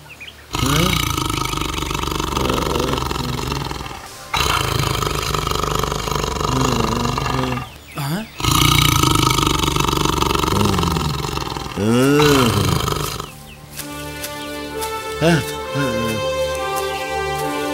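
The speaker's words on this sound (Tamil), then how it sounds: "அப்ப புலி சத்தம்" A tiger roars in a Tamil feature film scene: several long, loud, rumbling roars separated by brief gaps, followed by a harmonic, music-like tail.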